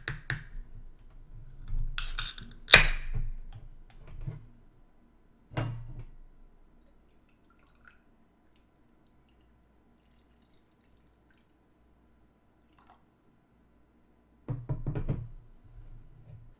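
A can of Budslayer IPA beer being cracked open and poured, a couple of sharp pops and clinks with splashing up front, then a long near-silent pause before another burst of pouring and fizzing.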